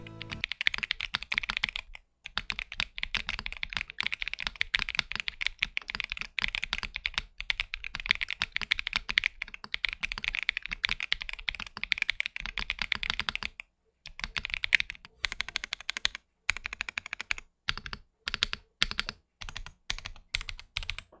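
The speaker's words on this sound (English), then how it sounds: "Lube the stabilizers, assemble the keyboard, and in its stock formation, this is how it sounds like" Rapid, steady clacking of a stock ACR Pro 75 V2 mechanical keyboard with lubed stabilizers being typed on, close and crisp, with a few short pauses between bursts.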